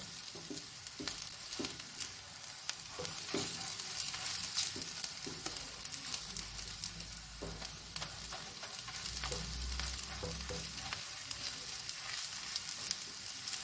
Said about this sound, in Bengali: আমার পেঁয়াজ বেরেস্তা হয়ে এসছে আর একটুখানি নাড়িয়ে নিয়ে তারপরে আমি তুলে ফেলবো